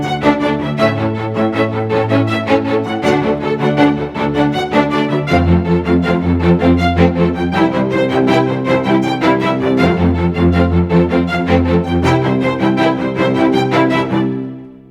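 Orchestral strings (violins, violas and cello) play sustained, closely miked chords in Logic Pro that shift every few seconds, full and intimate, then fade out at the end.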